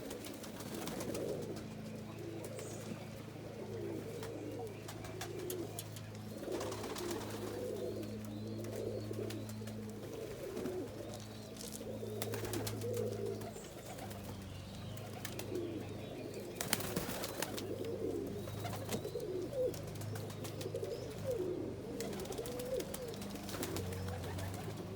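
Low, throaty cooing from several reverse wing pouter pigeons continues steadily and close by, layered and overlapping with soft background rustling.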